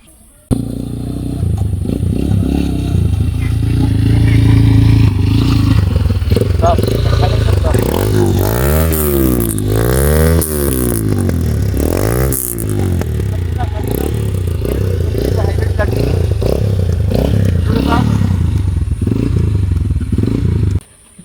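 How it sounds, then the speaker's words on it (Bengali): A Taro GP version 3 motorcycle engine idles loudly and is revved in several rising and falling sweeps, with someone talking over the steady exhaust rumble. "আমরা একটু আপনাদেরকে এক্সস্টের সাউন্ড শোনাবো"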